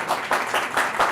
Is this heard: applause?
yes